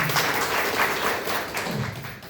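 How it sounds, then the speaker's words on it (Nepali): Church congregation applauding in praise, a dense, loud burst of clapping that holds steady and slowly tapers. "परमेश्वरको लागि जोरदार ताली"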